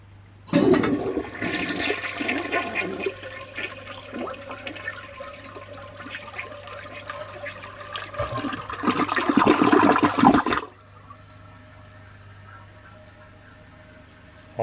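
Pink 1954 Eljer Duplex toilet flushing away paper: a loud, close rush and gurgle of swirling water lasting about ten seconds, surging near the end before cutting to a soft refill hiss.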